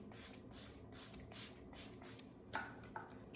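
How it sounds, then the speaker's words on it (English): Setting mist sprays onto a face in six quick, even pumps of fine hissing spritz, close and fairly soft, followed by a couple of light handling taps. "I'm actually gonna spray a little on now because it's feeling a little dry"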